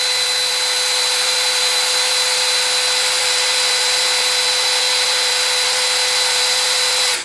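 A DeWalt DCD805 cordless hammer drill runs at speed, a loud, steady high-pitched motor whine held constant without pause until it stops right at the end.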